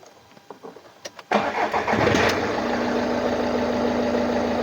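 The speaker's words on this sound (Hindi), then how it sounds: "देखो गाड़ी स्टार्ट की मैंने" A Volkswagen Vento with a pickup fault cranks briefly after a few clicks, then its engine catches and settles into a steady close idle, no talking.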